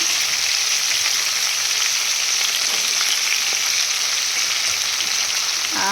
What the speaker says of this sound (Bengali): যে সবজিগুলো কেটে রেখেছি বেগুন বিনস কুমড়ো যত রকমের সবজি আছে পটল সব এবার দিয়ে দেবো